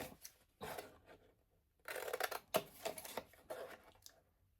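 Scissors snip in short, quiet bursts, cutting a long line along the sides of a small 3 x 3 x 1 inch box, with brief pauses between clusters of crisp cuts.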